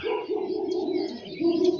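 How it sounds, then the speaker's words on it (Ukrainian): Birds chirp and coo continuously at five in the morning in Veliatyno, Zakarpattia, with layered tonal calls, fairly close and steady, with no talking. "Птахи вже не сплять, співають"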